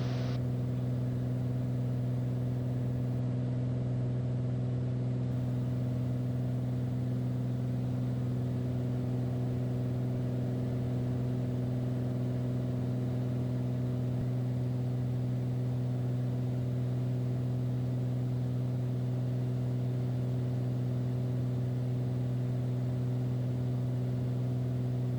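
A Beechcraft Bonanza's piston engine drones steadily through the climb after takeoff as the landing gear retracts, a constant loud hum with strong low tonal bands heard from inside the cabin, unbroken for the whole stretch.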